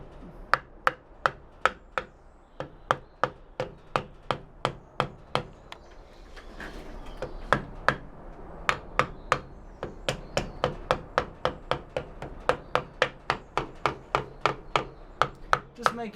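New bearing being tapped onto the main shaft of a Triumph pre-unit gearbox, a long series of sharp, evenly spaced metallic hammer taps, close and crisp, speeding up slightly toward the end, with no talking.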